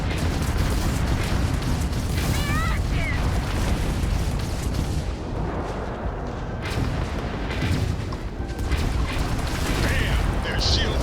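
Defensive deleter turrets aboard a Kepler S fire continuously at an enemy ship in a space combat game, a dense, steady barrage of booming shots layered with mechanical whirs and bright zaps, loud and unbroken throughout.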